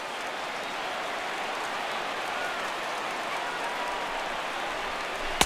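Large stadium crowd of about 25,000 in the MLB The Show 16 baseball game rises and cheers for the home team, a steady dense roar of applause and voices throughout, loud and continuous.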